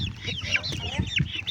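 Hens clucking close by, several birds overlapping in a busy, continuous chatter with short rhythmic clucks and squawks.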